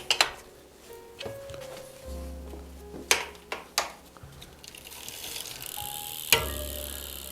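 Mechanical ratcheting and clicking from work on the non-drive side of a Trek Lime three-speed auto-shift bicycle's rear wheel, with a few sharp metallic ticks and clunks over a low, steady background hum.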